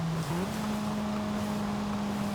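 Engine of a four-cylinder car in Forza Horizon 5 holds a steady drone at high revs, with a brief pitch wobble early on and only a faint exhaust crackle.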